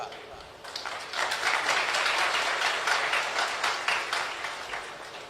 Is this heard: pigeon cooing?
no